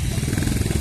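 A Bullet motorcycle passes close by with a throbbing, thumping engine rumble, short and loud.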